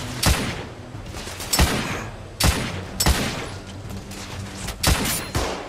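Gunfire in The Order: 1886 on PS4, several loud sharp shots cracking out at irregular intervals over a rumbling game soundscape.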